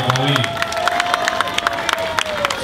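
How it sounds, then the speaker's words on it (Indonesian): A large crowd at a Jakarta political gathering claps rapidly and cheers, loud and continuous, with a voice ringing over the applause. "tepuk tangan untuk Bapak Joko Widodo"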